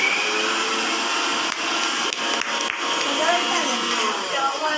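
A kitchen mixer grinder whirs steadily, grinding peepal and neem leaves for homemade eco-friendly colours, a continuous close motor drone with a few brief dips and a voice faintly under it.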